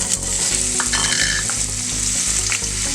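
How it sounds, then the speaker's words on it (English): Chopped onion, garlic and serrano chiles sauté in a hot pan with a steady, loud sizzle, broken by regular stirring strokes through the three seconds, with no voices. "We're gonna saute the ingredients."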